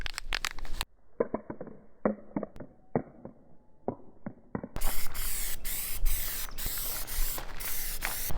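Spray primer hissing onto the edges of oak boards, broken into short sprays and clicks of the nozzle at first, then a longer sustained spray close to the mic.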